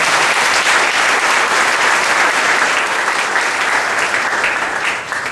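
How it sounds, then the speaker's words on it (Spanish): A church congregation breaks into loud, sustained applause, dense clapping that holds steady for several seconds before easing slightly at the end. "Den un aplauso al Señor."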